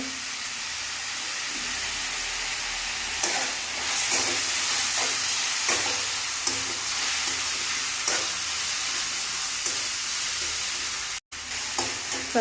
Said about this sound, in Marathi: टोमॅटोही चांगला आपण एकसारखं भाजून घेणार आहोत यामध्ये